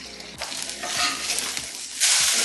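Breakfast burrito filling of steak and eggs sizzles loudly in a frying pan, with a steady hiss broken by a few scraping stirs of a utensil against the pan, alone without talking.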